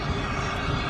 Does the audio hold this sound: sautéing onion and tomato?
no